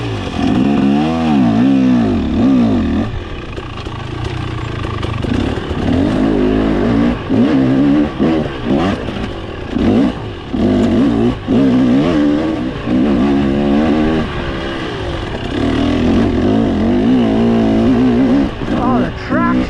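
A 2023 TBT Racing 300 dirt bike engine revs and lugs continuously while being ridden, loud and close with rising and falling pitch as the throttle opens and closes, a rider talking over it.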